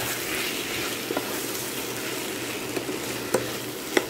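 Homemade masala being stirred into Chettinad chicken curry in a hot pan, a steady close sizzle with a few sharp scraping clicks from the spoon; no talking.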